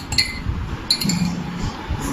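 A spoon clinks against a glass of water while stirring in sugar during a classroom activity, giving a couple of bright, close taps over a soft swirling background.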